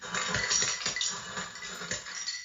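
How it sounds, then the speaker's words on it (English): Ice cubes from an ice maker clatter into a glass in a quick cluster of bright, close clinks and knocks, with several sharp hits over a couple of seconds and no talking. "The second sound is going to be the ice going in the glass."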